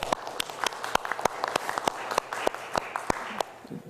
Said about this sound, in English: Please give them a big round of applause for each guest introduced.